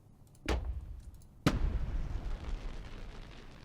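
Fireworks launched in the video game Parkitect: two sharp, loud launch bursts about a second apart, each trailing into a rumbling, crackling tail.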